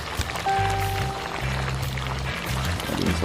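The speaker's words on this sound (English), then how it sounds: "Adding some water, you know." Water poured into a cooking pot while curry goat is prepared, a continuous splashing pour over a couple of seconds, moderately close and fairly quiet, with no talking.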